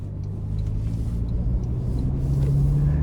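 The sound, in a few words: 2025 Toyota Land Cruiser SUV driving around corners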